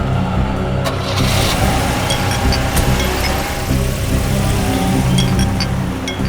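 A car engine runs steadily while the vehicle drives along, a loud, continuous mid-range rumble with shifting tone and no speech over it.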